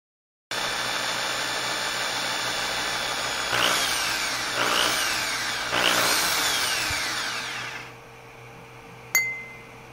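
A power drill, used as an improvised tool while upgrading a 3D printer, whines steadily and rises in three short bursts of higher pitch before winding down, followed by a brief click near the end.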